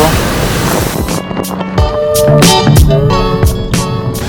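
Waves and spray wash against a Class 40 racing sailboat on a reach in sunny weather, a continuous loud rush of water and wind noise with surging splashes, while a person talks over it.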